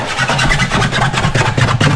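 A Vivaro van's engine runs in a workshop, a loud, steady low rumble with a regular mechanical pulse, close by and alone.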